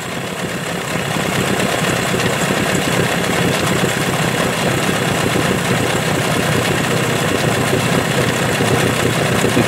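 A Mercury outboard motor idles steadily at close range, a loud continuous low rumble and vibration that starts about a second in and holds without talk.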